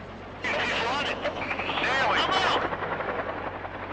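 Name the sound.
military attack helicopter flying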